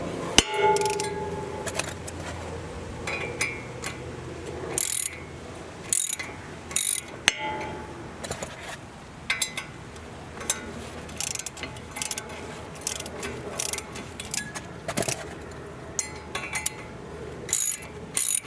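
A wrench clicks and ratchets in bursts while bolts are turned to press a stuck brake rotor off a Toyota, with sharp metallic taps and pauses between strokes, close and loud, with no talking.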